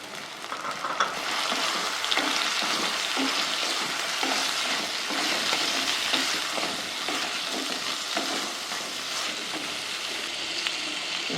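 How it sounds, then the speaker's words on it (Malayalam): Chopped tomatoes go into a pan of taro leaf curry in a Kerala kitchen, setting off a steady, loud sizzle and frying hiss with occasional stirring scrapes throughout, no voices. "അരിഞ്ഞു വെച്ച തക്കാളി ഇട്ട് കൊടുക്കുന്നു."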